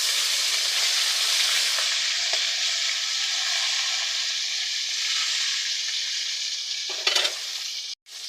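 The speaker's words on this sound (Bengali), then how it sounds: "মাছগুলোকে ভেজে নিচ্ছি" Rohu fish pieces fry in hot oil with a steady, loud, close sizzle that crackles and hisses throughout, with a few brief sharper spits near the end.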